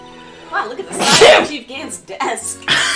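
A person sneezes once, sharply and close up, while friends chat over a detective video game; talk comes just before the sneeze and continues right after it.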